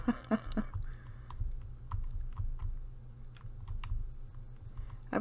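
Computer keyboard arrow keys are tapped during a racing game. Scattered clicks come in short bursts over the game's low engine drone.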